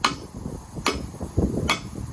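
A hammer strikes a container lift floor mount during a trailer inspection, three sharp metallic blows at an even pace with duller knocks between them, close and loud.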